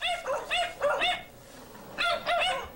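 Dogs bark in quick, yelping bursts at an overwhelmed South Texas animal shelter, two clusters of close, moderately loud barks split by a short pause.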